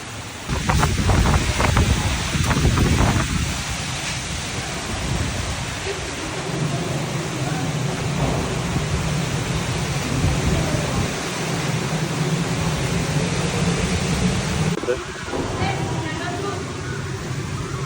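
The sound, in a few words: Kalbaishakhi storm wind and rain in Chittagong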